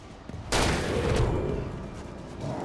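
Gunfire from a weapon in the Alan Wake video game: a sudden loud burst of shots that hits hard, then rolls on in a dense, slowly fading crackle, with no talking.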